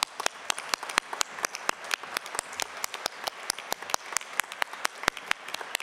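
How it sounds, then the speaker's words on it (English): Sparse, sharp claps ring out at an uneven pace at an awards ceremony, a handful of hands clapping rather than a full roaring crowd, steady throughout. "I know you're all refreshed after the break, so keep clapping. That's it, keep clapping."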